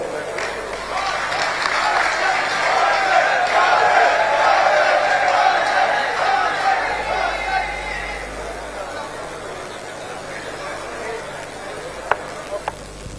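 A crowd at a political speakership declaration event gives sustained applause and cheering after a speech, loud and steady at first, then gradually fading.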